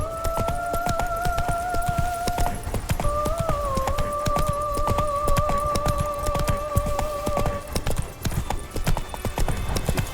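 A horse gallops in The Witcher 3: Wild Hunt, steady rhythmic clip-clop hoofbeats running throughout under a sustained two-tone musical line.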